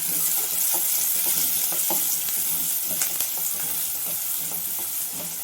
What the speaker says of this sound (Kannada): ಇಷ್ಟು ಹಾಕಿ ಸ್ವಲ್ಪ ಹಸಿ ವಾಸನೆ ಹೋಗೋವರೆಗೂ ಫ್ರೈ ಮಾಡ್ಕೊಳ್ಳಿ.